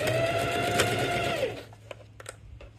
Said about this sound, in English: I'm going to need to stitch a 1 centimeter seam along the bottom of my bag